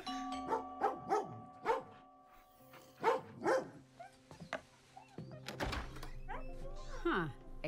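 Dog barking from the Overwatch 2 animated short "Calling" featuring Sojourn, a few short barks early on, followed by music and a voice.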